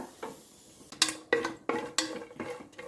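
Fried cashew nuts are scraped and transferred from a pan into a dish, a run of sharp metallic scrapes and clinks of a spoon against cookware, about six strokes in quick succession, close and clear.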